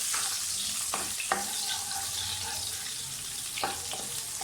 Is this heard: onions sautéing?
yes